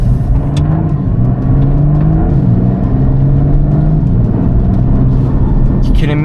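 A Porsche 992.2 Turbo S with its hybrid engine setup accelerates hard in Sport Plus, a loud rising engine drone heard from inside the car with occasional voice sounds over it.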